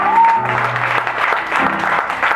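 Church congregation applauding and acclaiming God during a worship service, a dense burst of clapping and voices filling the room steadily with a brief sustained tone at the start.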